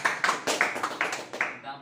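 Classroom clapping in a high school religious-studies lesson, a few quick, sharp bursts of hands clapping from a small group, close and fairly loud, fading out at the end.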